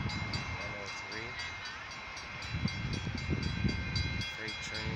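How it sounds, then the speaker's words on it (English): Freight train rolling past at a Metra crossing in Wood Dale, a faint steady rumble with repeated wheel clatter, distant and low, with people talking over it. "Freight train at what street?"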